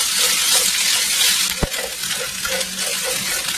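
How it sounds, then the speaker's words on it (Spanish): Diced potatoes frying in oil in a pan, a steady loud sizzle with a periodic scraping stir and one sharp knock of the utensil against the pan midway, no voices. "Agregar las papas picadas en cuadritos. Revolver y dejar que cocine por 10 minutos."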